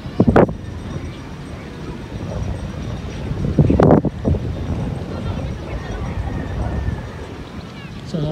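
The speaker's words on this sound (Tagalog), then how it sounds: "Lakas ang hangin." Strong gusty wind buffets the microphone while a kite is flown outdoors, loud rumbling blasts with two sharp gusts and continuous roar, with a person talking under it.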